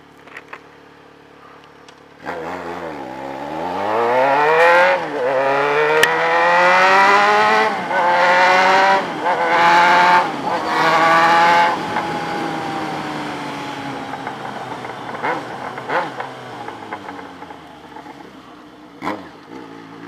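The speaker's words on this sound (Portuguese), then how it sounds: "Chega o motor todo solto, mano." A car engine revs hard as the car skids and slides through sand, loud and close, the pitch sweeping up and down for several seconds before easing off into rougher engine noise.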